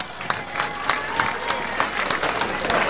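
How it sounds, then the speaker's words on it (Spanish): Crowd applause at a presidential speech opening a community centre in Tambo de Mora, a steady wash of many hands clapping with periodic sharper peaks, moderately loud and continuous throughout. "Un fuerte aplauso pues a Sonia."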